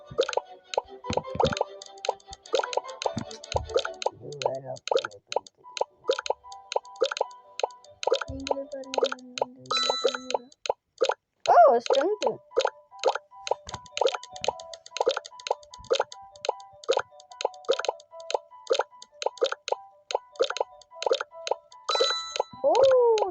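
Rapid plinky plops and chimes ring out during a spin in a Roblox game, a long, busy run of short bright electronic blips with steady rhythm.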